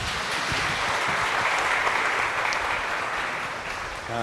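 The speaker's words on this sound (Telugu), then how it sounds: "చప్పట్లు కొట్టండి." An audience at a spiritual gathering claps hands together, a dense sustained applause throughout that fades slightly at the end.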